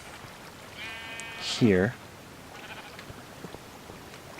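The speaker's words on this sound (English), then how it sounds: "I've got some sheep that I've been raising" A single loud, wavering sheep bleat from a video game rises over a quiet background, with a brief spoken word nearby.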